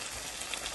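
Chopped eggplant and zucchini fry together in a pan, giving a soft, steady hiss of sizzling oil in a brief stretch with no talking.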